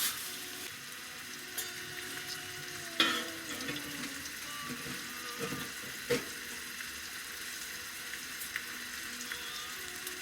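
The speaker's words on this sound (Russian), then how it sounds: "такой замечательный стейк, смотрите. В общем-то отправляется он у меня в сковородку" Soft, continuous sizzling of steak in a hot pan on a tent stove while camping, quiet and steady, with a few clinks and clatters near the start and midway.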